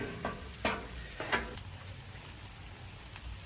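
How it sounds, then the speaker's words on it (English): A spatula scrapes leftover residue off a hot griddle while chicken and pork fried rice is being cooked. A few short, sharp scrapes sound over a steady low sizzle, with no talking. "Let's scrape some of this excess off because we're going to put the rice on here."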